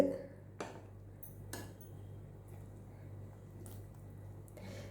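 A lid comes off a pot of sambar cooking with brinjal and drumstick, giving a couple of faint metallic clinks over a low, quiet background hum.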